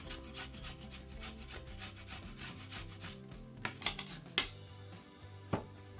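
Peeled cassava rasped on a small-hole grater for vada, a steady rhythmic scraping with repeated strokes, a few louder knocks near the end, no talking.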